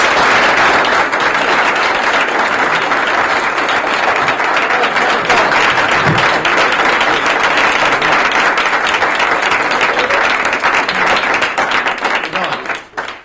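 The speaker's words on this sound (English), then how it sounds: "Please, ladies and gentlemen, a nice round of applause for the comedy," Loud, continuous applause from a comedy club audience greeting comedian Brian Kiley, thick steady clapping for most of the stretch before tailing off abruptly at the end.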